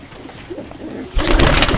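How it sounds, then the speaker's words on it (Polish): A young female racing pigeon coos softly at close range, a brief low murmur that ends in a burst of fluttering or handling noise. "Młodziutki gołąb, piękna."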